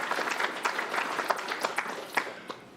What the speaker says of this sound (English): So a round of applause for all those that put this together today.